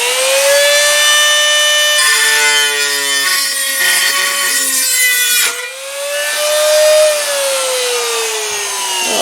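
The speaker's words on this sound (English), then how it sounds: "we're set up with a Dremel cutting disc and we have our metal in the vise" A Dremel rotary tool with a cutting disc slicing into metal clamped in a vise, a loud, steady high-pitched whine with grinding overtones that dips briefly mid-cut and then rises again.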